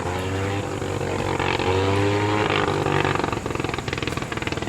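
A World War 1 fighter plane's rotary engine runs close by at an airfield in Rhinebeck, New York, a loud rough propeller drone that swells and settles into rapid pulsing firing toward the end.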